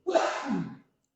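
A single sneeze, close and fairly loud, bursting out sharply and trailing off within a second during a religious lecture, with no talk over it.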